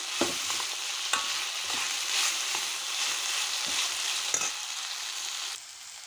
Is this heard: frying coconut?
yes